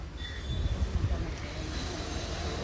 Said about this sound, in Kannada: ಬಂತು ನೋಡ್ರಿ ನಮ್ಮ ಟ್ರೈನ್ ಇವಾಗ. ಯಪ್ಪ, ಮೆಮೊ ಟ್ರೈನ್ ಅಂತ ಇದು